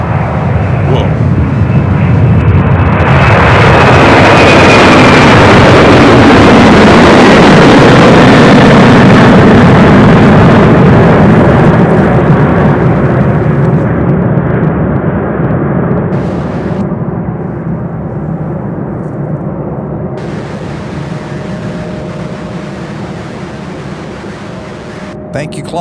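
An MD-11 jet takes off at Louisville International Airport, its engines building to a loud, close roar that peaks early, then slowly fades as the aircraft climbs away, with a voice briefly heard over the noise.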